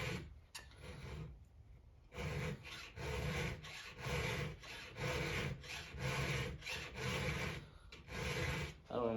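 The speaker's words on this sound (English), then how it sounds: "I don't file the chain out in the woods quite as good as I do right here like this" A hand file strokes rhythmically across a Stihl 462 chainsaw chain, steady rasping pushes repeating close up about once every half second with brief pauses between passes.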